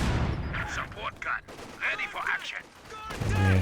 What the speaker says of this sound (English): MG34 here.